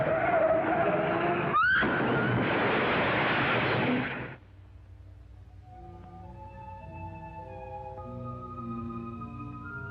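A car skids hard with failed brakes at about 55 mph: a loud, close tire screech and skid roar lasting roughly four seconds, then cut off abruptly as dramatic orchestral music takes over.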